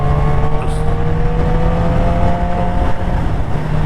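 A motorcycle accelerating onto a motorway, its engine droning at steady revs under loud wind rush, heard from the rider's position with no talk.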